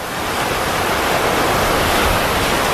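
Ocean surf at a California beach on a warm day, a loud, continuous broadband wash of breaking waves with no voices.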